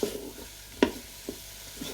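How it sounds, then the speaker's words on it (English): Potatoes stirred into melted butter in a pot for leek and potato soup, a few scraping spoon strokes with one louder scrape near the middle over a faint sizzle. "And now I'm going in with the potatoes. So again, just keep stirring."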